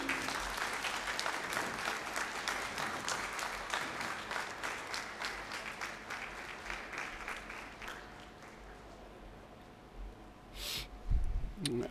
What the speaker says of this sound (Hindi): I request everyone to give Sir Abbas a standing ovation, please.